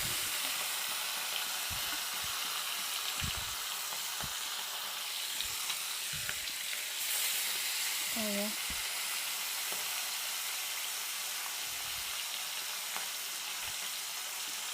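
Hilsa fish pieces frying one by one in hot salted oil, a steady close broadband sizzle with scattered soft clicks and spatters throughout, no talk.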